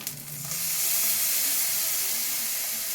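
Water poured into spice paste of ginger and garlic frying in a pan: a brief softer sizzle, then a sudden surge into a loud, steady hiss that holds evenly to the end.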